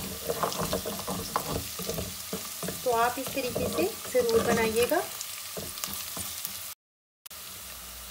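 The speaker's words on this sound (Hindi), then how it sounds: "अब इसके अंदर मैं ये प्याज डाल दूंगी और इसको भी थोड़ा सा फ्राई करेंगे।" Steady sizzling and crackling of onions frying in a pan with garlic and ginger, with stirring scrapes, while someone speaks over it near the end.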